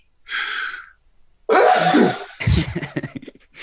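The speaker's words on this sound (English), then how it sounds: "I was waiting for the second sneeze." A forceful sneeze rings out, followed by a second, louder sneeze and a burst of breathy, sputtering noise close to the listener.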